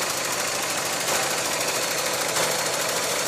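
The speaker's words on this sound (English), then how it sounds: "That's the fuel injectors firing inside there." A two-tone 1982 car's engine idles after starting up, with a steady, close-up rumble and a fast, even ticking from the fuel injectors running through it continuously.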